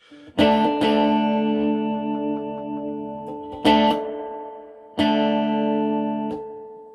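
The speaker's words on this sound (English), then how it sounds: "the spring reverb that it's set on at the minute, it's got like a little bit of a squishy sort of sound behind it" Gretsch guitar played through a vintage Marshall amp on spring reverb: three loud strummed chords, each ringing out with a long, slightly squishy reverberant tail that fades between strikes.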